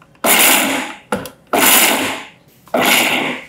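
A mixer grinder pulses a dry spice masala mix of black masala, red chilli powder, garam masala and coriander powder. Three loud whirring bursts come close and alone, with a brief stutter between the first two.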